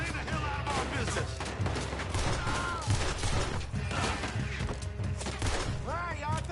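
Gunfire from a Red Dead Redemption shootout, repeated shots crackling through a dense, busy mix of game sound, with voices shouting over the fighting.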